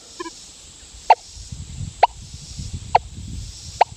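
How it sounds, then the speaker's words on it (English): Four evenly spaced, sharp two-tone beeps from a Deus 2 metal detector at speed 6, with a 9-inch FMF coil, on a buried US half dime. Each beep is brief and clear over a faint steady hiss, about one per second. "So I had to get to speed 6 to hear 2-way signal."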